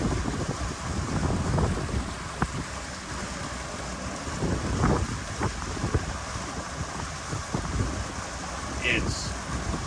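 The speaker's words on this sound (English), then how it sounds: "This is our boating tour in Hernando Beach, Florida." A small boat cruises through residential canals off Cheeks Creek at Hernando Beach, Florida, its steady motor hum mixed with heavy wind buffeting and water splash, continuous and close.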